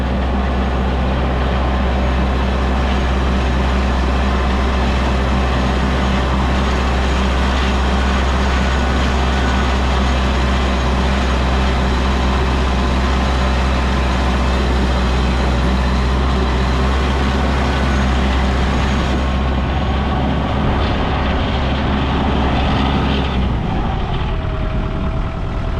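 A Korean TYM hydrostatic tractor driving down the road at speed, its engine a steady loud drone with a deep low rumble that continues unbroken before fading down near the end.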